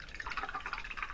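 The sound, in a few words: paintbrushes being washed in water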